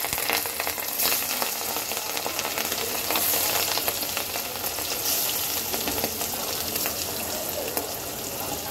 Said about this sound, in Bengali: এখন আমি এক এক করে মাছগুলো ভেজে নেব।